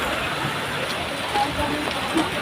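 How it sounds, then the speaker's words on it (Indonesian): Light drizzle falls steadily after rain at a cold, misty campsite, a soft continuous hiss of drops with a couple of small louder patters and faint voices in the background. "Habis hujan, masih gerimis"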